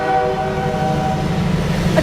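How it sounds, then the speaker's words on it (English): Passing train sound effect played during a school stage play: a loud sustained horn blast that fades into continuing rail rumble, with no talking. "A train!"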